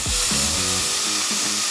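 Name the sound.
drilling holes with a power drill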